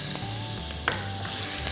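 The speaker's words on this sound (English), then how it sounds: "I'll add tej patta, and what I have here is grated onion." Grated onion and bay leaves (tej patta) sizzle in hot oil for a Bengali fish curry, a steady close hiss with a few soft clinks of stirring and a low hum in the kitchen behind.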